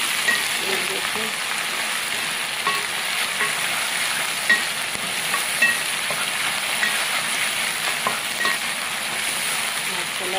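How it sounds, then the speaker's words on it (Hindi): Loud, continuous sizzling of onion, ginger and garlic paste frying in a pan, with occasional stirring scrapes over the steady crackle. "अदरक लहसुन भी इसके अंदर काफ़ी फ्राई हो गया है।"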